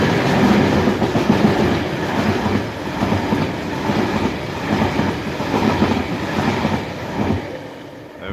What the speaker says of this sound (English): It's a Network Rail ballast train.